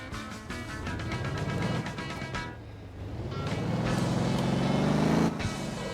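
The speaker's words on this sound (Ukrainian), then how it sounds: "Моя машина, грузова яка змагається з автобусом." In the Motor Town video game, a truck engine drones and rises in pitch as it accelerates, with gear-change dips and a steady, fairly loud mechanical tone.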